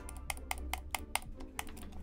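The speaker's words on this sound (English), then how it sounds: "that's the sound of my mouse trying to click a game" A computer mouse clicks about seven times, each a crisp, quiet click at a fairly even pace over a low background hum. No one speaks.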